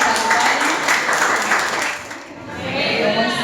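An audience at an evangelism workshop gives loud applause to welcome a speaker, a broad wash of clapping that thins toward the end as a voice comes in.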